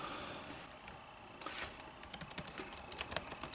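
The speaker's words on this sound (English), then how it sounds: "Keyboard is really solid. It's got good travel." Typing on a Lenovo ThinkPad A485 laptop keyboard, close and crisp: a few scattered keystrokes at first, then a quick rhythmic run of clicky taps building toward the end.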